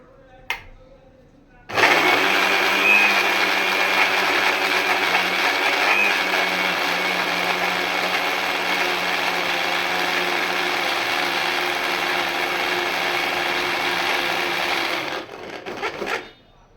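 A blender grinds a mango into a fine paste with no water added. After a quiet start the motor kicks in loud and steady, holding a dense, even whir for about fourteen seconds before cutting off.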